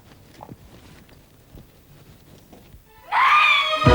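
A woman lets out a sudden loud, sustained scream in a CID crime drama episode, breaking in after a stretch of quiet footsteps and faint room noise and lasting to the end.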